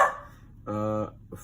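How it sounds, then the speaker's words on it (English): A dog barks once in a steady, harmonic bark-howl lasting under half a second, fairly close, in an indoor room with no talking and only a short faint yip after. "I apologize for the barking."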